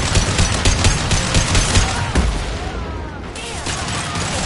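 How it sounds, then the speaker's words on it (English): Heavy gunfire in a PS4 video game, dense loud rapid shots and booms packed together continuously, with game effects layered underneath. "Firing a high-impact shot."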